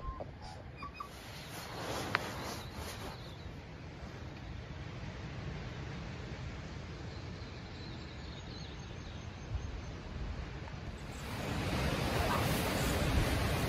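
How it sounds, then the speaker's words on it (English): Relentless wind blows at a cold mountain campsite, a faint, steady rushing noise that builds and grows louder near the end, with no talk. "That wind is relentless."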